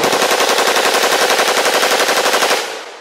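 Rapid, loud automatic fire from an unsuppressed M16 rifle rattles in a continuous burst for nearly three seconds, then cuts off with a short echoing tail.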